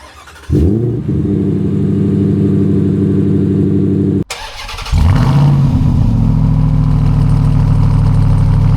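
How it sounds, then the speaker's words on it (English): A pickup truck engine, a Ford Raptor R or Ram TRX, starts and idles with a deep exhaust rumble, cuts off briefly, then fires up again to a louder, throaty idle. "The exhaust note on both of these trucks sound great."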